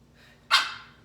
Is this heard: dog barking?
yes